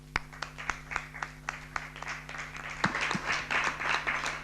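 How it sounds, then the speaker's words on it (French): Applause in a municipal council meeting in Luçon, starting as scattered individual claps with clear gaps, then building into denser, overlapping clapping from several people in the room over a steady low hum. "on peut l'applaudir"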